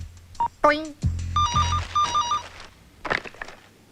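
A telephone rings on speakerphone with a repeating electronic warble, preceded by a few short bumps and a voice; brief speech follows.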